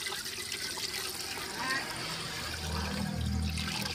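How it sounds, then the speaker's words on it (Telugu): Water trickles and splashes as it is poured into a pot of chicken biryani being cooked at home, a fairly close, continuous pour that grows fuller toward the end, with a faint low rumble beneath. "అదండి బిర్యానీలోకి వాటర్ వేసింది."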